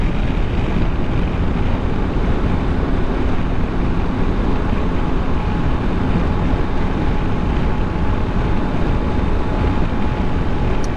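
Steady broadband wind roar buffeting the rider on a Triumph Tiger 1200 Desert Edition motorcycle at speed on a cold ride, loud and continuous without a break, with no talk over it.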